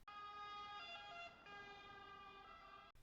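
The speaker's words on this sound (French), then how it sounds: "le changement de sonorité de la sirène" Ambulance siren wailing loudly and steadily, its tone audibly shifting pitch partway through as it passes, then cutting off abruptly at the end.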